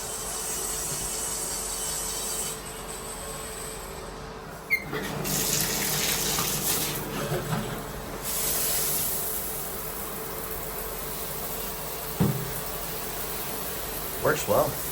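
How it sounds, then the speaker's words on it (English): Water runs steadily in a bathtub, rinsing a cordless spin scrubber, a continuous splashing hiss close by with bumps and shifts as the scrubber moves under the stream. "I'm going to rinse it out in just a second."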